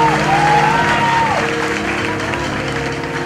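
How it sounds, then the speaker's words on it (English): An audience at an awards ceremony claps in sustained, even applause that fills the room, with a voice speaking briefly over it. "give them a better round of applause than that"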